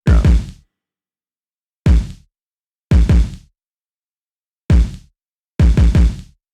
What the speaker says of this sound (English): And then my kick drum, just a really fat kick drum.